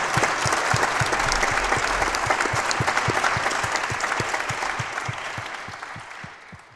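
Sustained applause from a sizable crowd at a Pashto music and poetry performance, dense clapping that stays loud and steady before gradually thinning and fading toward the end.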